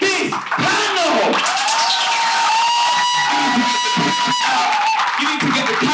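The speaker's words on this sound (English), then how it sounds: "Can I just get a massive round of applause for this panel?" Audience applause and cheering for a debate panel, a full roar of clapping with whoops from a lively crowd, steady and close for several seconds.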